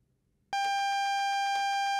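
AWS self-test alarm in a Class 166 train cab in Train Sim World, which starts abruptly after silence as a loud, sustained electronic tone. The tone pulses rapidly and steadily, with a second strike about a second later, and there is no talk.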